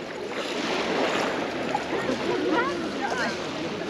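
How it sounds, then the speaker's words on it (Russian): Small sea waves lapping and splashing around someone wading in calm, glass-clear warm water off the beach at Lazarevskoye near Sochi, a steady close wash with faint bird calls in the distance. "Я тут только, правда, волны нагнал"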